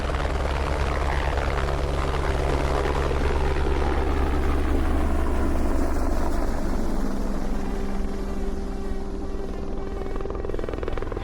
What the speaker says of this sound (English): How good's that, seeing the helicopters come in?